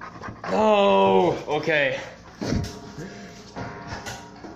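A dog pants heavily and rapidly up close with some whimpering, while someone talks over it.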